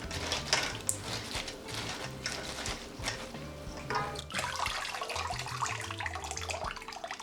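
Dried sorrel being dipped and rubbed in a bowl of water, soft close sloshing and swishing with small splashes and rubbing sounds, fairly quiet and continuous, with no talking.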